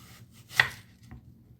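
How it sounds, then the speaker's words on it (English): A knife cuts through apple for a sponge cake, giving a single crisp slice with a faint softer cut after it, quiet and close. "cut it into slices, very, very thin slices"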